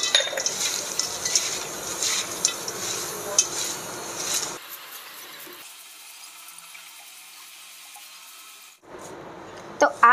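Papad, poha chevda and roasted gram being stirred in a pan: a spoon scrapes and clinks against the metal in busy, irregular strokes for about four seconds, then the sound drops to a low hush with a few light taps at the end.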